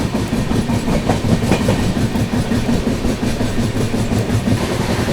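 The 22412 Arunachal AC Superfast runs at speed past New Barauni Junction in heavy monsoon rain, a steady loud rumble with faint rhythmic clickety-clack of the wheels, heard from inside the train with no talking.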